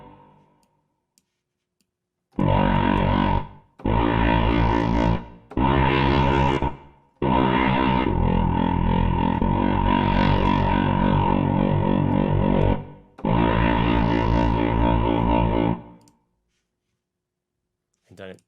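A cinematic synth patch from Spectrasonics Omnisphere plays in several sustained, bright harmonic blocks, the longest swelling for several seconds, each ending with a short reverb tail before silence.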